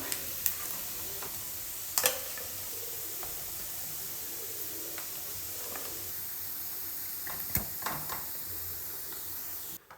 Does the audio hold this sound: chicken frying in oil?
yes